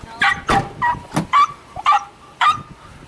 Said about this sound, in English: Bark, bark, bark, bark, bark, bark.